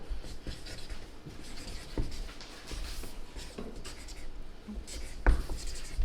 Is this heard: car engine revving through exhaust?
no